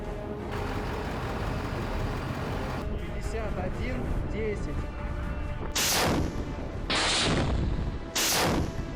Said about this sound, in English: The MLRS systems target Ukrainian sectors. Grad is joined by Smerch.